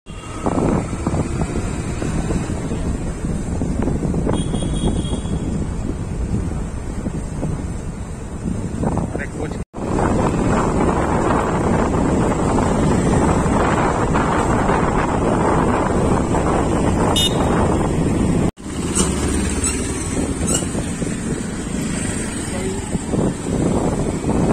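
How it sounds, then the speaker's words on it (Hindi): Wind roars continuously against the microphone as a motorbike rides along a road. The rush is loud throughout, with two brief dropouts. "हमारी बाइक स्टार्ट हो गई और हम लोग निकल रहे हैं"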